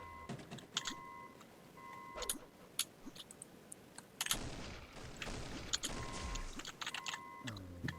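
Gunshots from the first-person shooter Sauerbraten come in scattered sharp cracks and short bursts, with clicky game effects and beeping tones in between, at moderate loudness and with no voice over them.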